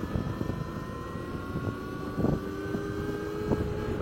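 A Revolt RV BlazeX electric motorcycle accelerates at full throttle, its steady motor whine rising in pitch under a constant rush of wind and road noise.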